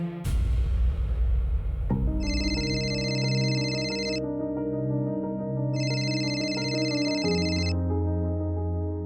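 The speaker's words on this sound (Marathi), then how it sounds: "मग थांब, मी फोन करतो त्यांना." An electronic phone ringtone plays a repeating tune, with two bright, high-pitched bursts over the melody.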